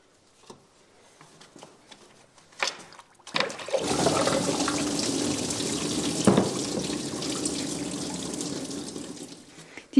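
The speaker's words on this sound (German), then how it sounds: "Macht euch ein Auffanggefäß drunter, denn es kommt viel Wasser raus." Coolant water pours and splashes steadily out of an Opel engine during a timing belt job, starting after a few faint clicks and continuing as a loud, continuous gushing stream with no voices.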